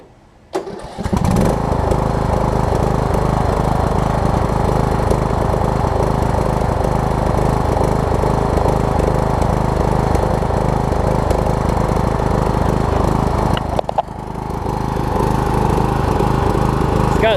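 A Troy Bilt Pony riding mower engine, just fitted with a new ignition coil, fires up and runs loud and steady nearby, briefly dipping before picking back up.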